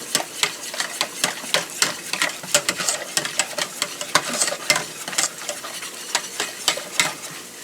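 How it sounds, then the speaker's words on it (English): Flour whisked into warming milk in a saucepan for Cajun mac and cheese: rapid, rhythmic clicking and scraping strokes of a whisk against the pan, close and fairly loud, with no talking. "To that I'm going to add in 2 tablespoons of flour. And you want to whisk this good."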